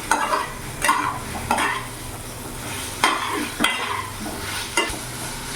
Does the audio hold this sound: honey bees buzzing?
no